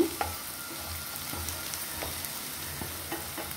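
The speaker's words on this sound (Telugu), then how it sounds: "ఉల్లిపాయల్లో కొంచెం ఉప్పు వేసాం కాబట్టి తొందరగానే ఫ్రై అయిపోతున్నాయి" Onions sprinkled with a little salt fry in a pan, a steady close sizzle with occasional soft stirring scrapes, no voices.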